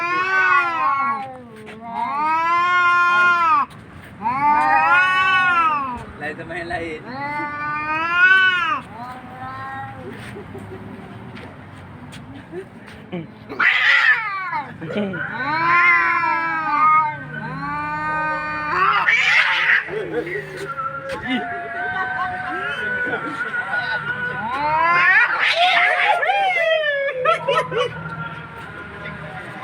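Cats fight, yowling and caterwauling in long wavering cries, rising and falling repeatedly with sharp screeching bursts, while a person talks briefly between the howls.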